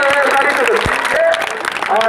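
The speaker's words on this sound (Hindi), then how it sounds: "और ताली" Audience clapping at a science awareness program in India, a steady roar of applause with a presenter's voice talking and cheering over it throughout.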